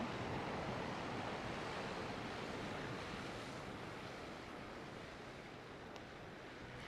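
Ocean surf rolling onto the Welsh coast between Caswell and Mumbles, a steady broadband wash of breaking waves heard close and loud throughout, with a little wind buffeting the microphone and no voices.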